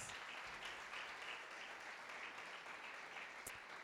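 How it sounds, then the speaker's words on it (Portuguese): Faint, steady applause from a church audience at a book launch event, continuous hiss-like clapping heard at a distance for a few seconds. "Aplauda Jesus, que é benção demais."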